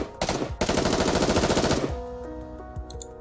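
Gunfire in the video game NIKKE, a dense rapid burst of automatic fire at close range that stops abruptly, followed by ringing tonal effects and a few sharp hits.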